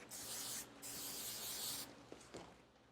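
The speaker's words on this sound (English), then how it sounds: "put some spray" Hairspray is sprayed onto a cheer ponytail hairstyle in two hissing bursts, a short one and then a longer one, close and clear, followed by faint brushing and handling sounds.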